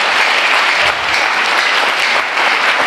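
Church congregation at a New Year's Eve service applauding loudly and continuously, dense close clapping with voices of acclaim blended in.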